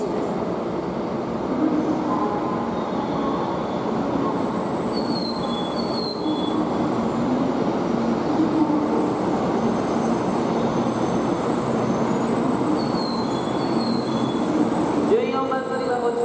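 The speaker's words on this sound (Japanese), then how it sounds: "14番乗り場に到着の列車は回送列車となります。" An out-of-service train pulls into platform 14 at a Japanese station, with a steady rumble, high squealing wheels and faint chimes throughout, ending with clicking and a brief whine.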